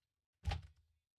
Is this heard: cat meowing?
no